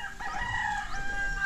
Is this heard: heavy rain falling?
no